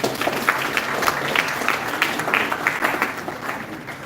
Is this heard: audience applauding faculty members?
yes